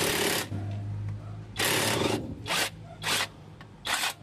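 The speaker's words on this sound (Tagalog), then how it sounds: "Dito sa transmission, hindi na kinaya nung maliit kong impact wrench, kaya itong malaking impact wrench na yung ginamit ko." A large impact wrench hammers at a stubborn transmission bolt on a Mitsubishi L-300 Euro4 van, loud close bursts of rattling impacts in several short runs separated by brief pauses.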